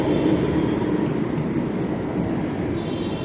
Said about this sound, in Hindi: ये जो मेट्रो गई है, इस मेट्रो के माध्यम से मैं यहाँ उतरा हूँ